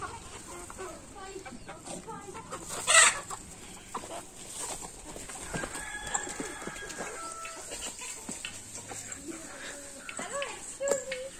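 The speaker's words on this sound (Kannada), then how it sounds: "ನೋಡಿ, ಕೋಳಿಗಳೆಲ್ಲ ಇದೆ" Chickens cluck and a rooster calls at a cattle farm, the bird sounds scattered and mid-distance amid background bustle, with a loud burst near the start and people talking at times.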